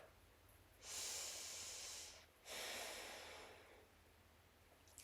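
A slow, deep breath taken during seated chair yoga: a long airy inhale lasting over a second, then a second sustained breathy exhale, both close and soft against a quiet room.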